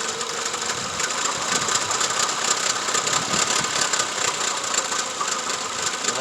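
A 2004 Toyota Camry engine idles with a misfire, a steady, close, noisy mechanical hum and clatter with no talking.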